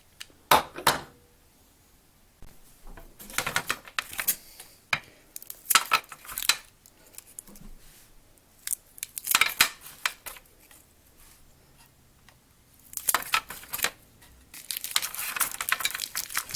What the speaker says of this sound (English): I'm just going to cut these Tootsie Rolls with some regular old scissors.